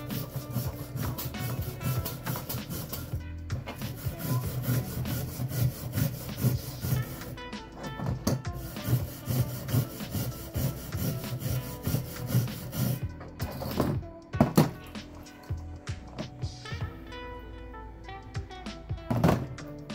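A rusty hand wrench is scrubbed by hand in close, irregular rubbing and rasping strokes, broken by a few short pauses and occasional knocks, with no talk.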